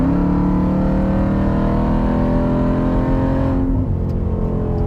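Jeep Grand Cherokee Trackhawk accelerating hard in traffic from a red light, a loud, close, steady engine roar with a rising supercharger whine that drops away near the end.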